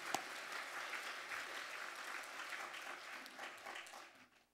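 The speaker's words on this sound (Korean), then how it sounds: "박수로 축복해 주시기 바랍니다." A church congregation applauds in blessing, a steady, fairly faint wash of many hands clapping together, continuing evenly for several seconds before tapering off.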